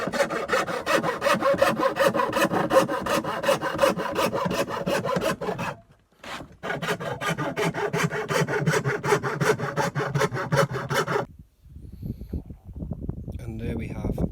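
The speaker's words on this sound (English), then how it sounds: "I'm going to cut it with the coping saw" Coping saw cutting plywood, a close rhythmic rasp of steady back-and-forth strokes, pausing briefly twice, with a voice talking near the end.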